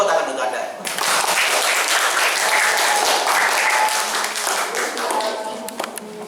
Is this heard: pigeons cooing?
no